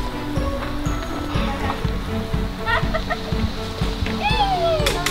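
Chickens cluck and squawk in short bursts over a rhythmic mechanical thumping and background noise, with a high-pitched call rising near the end.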